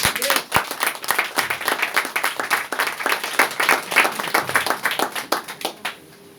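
A church congregation applauds the Lord, a steady, loud round of many hands clapping in quick rhythm that fades out at the end.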